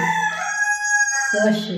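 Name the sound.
rooster crowing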